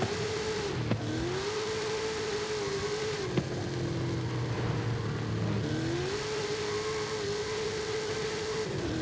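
Cadillac XTS Limousine engine revving in Forza Horizon 5, a steady mid-pitched exhaust drone that dips and rises again, loud and continuous with no talking.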